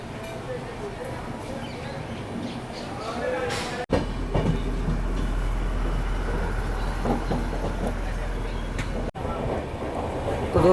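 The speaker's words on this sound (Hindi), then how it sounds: "तो दोस्तों सीतारामपुर जंक्शन जो है क्रॉस कर रही है अपनी ट्रेन।" A Howrah–Delhi Duronto express runs through a junction, heard from inside the carriage as a continuous rumble with rhythmic clickety-clack over the rails, and voices talking in the background.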